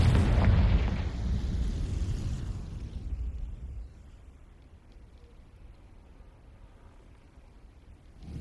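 A Confringo fire spell explosion in Hogwarts Legacy: a loud, deep booming blast that rumbles for a few seconds before fading into a lower, lingering background roar.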